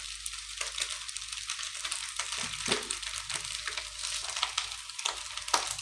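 An egg frying in a pan for sinangag fried rice, with a steady crackling sizzle and intermittent sharp pops and scrapes of a utensil, heard up close.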